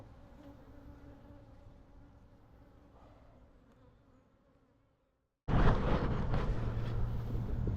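Honey bees buzzing steadily around an opened hive during a frame inspection, a dense close hum that fades out and then returns louder and harsher with wind noise.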